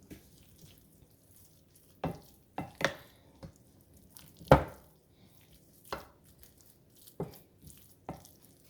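BBQ sandwich meat being stirred in sauce, a series of separate soft thuds and wet scrapes of a utensil in a pan, roughly one every second, close and fairly quiet.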